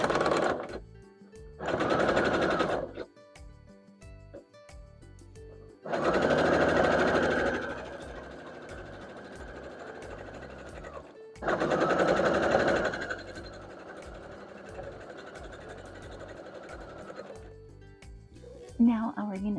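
A sewing machine stitches quilt block units together for a barn star quilt block in several fast, whirring bursts of a few seconds each, close by, with a person talking between and over the runs.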